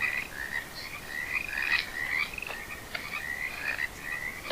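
Frogs croak in a continuous chorus of raspy, repeating calls, moderately loud and steady over a low night hiss.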